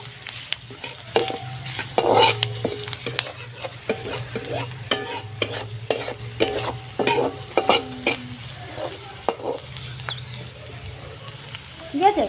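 Potatoes fry in a pan seasoned with salt and turmeric at an outdoor picnic, with a steady sizzle and repeated scraping, clinking stirs of a metal spoon against the pan, plus occasional voices in the background.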